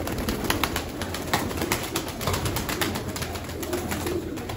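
Pigeons coo and flap their wings close by, soft repeated calls and fluttering wingbeats layered over a busy, steady background.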